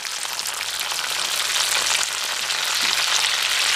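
Chopped green chillies hit hot oil with mustard seeds and cumin for an eggplant and tomato curry, producing a loud, steady, close hiss of frying that swells slightly partway through; no one speaks.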